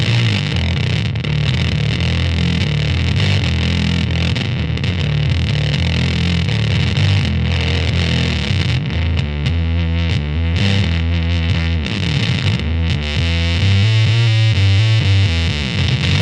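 A heavily distorted electric guitar through a pedal at full gain, boost rolled back and diodes reintroduced, plays thick, saturated chords and notes, loud and sustained throughout.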